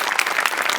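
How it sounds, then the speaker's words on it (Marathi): A studio audience claps loudly for performer Chetana on a comedy show stage. It is a dense, even burst of many hands, close and full, with no voices over it. "तुझ्यासाठी स्पेशल टाळ्या."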